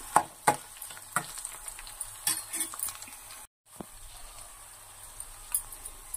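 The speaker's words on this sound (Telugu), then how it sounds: "ఇప్పుడు కొన్ని ఆవాలు వేస్తానండి." Mustard seeds fry in oil for a tamarind pulihora tempering, crackling with scattered sharp pops and clinks over a soft sizzle, close and fairly quiet.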